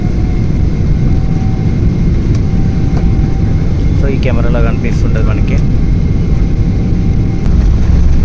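A Hyderabad-to-Dubai passenger jet takes off with a loud, steady engine roar that fills the cabin throughout, while someone talks over it.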